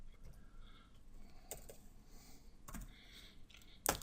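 Computer keyboard keys pressed during a network router configuration session, a few soft, sparse clicks at low volume with a sharper tap near the end, no talking.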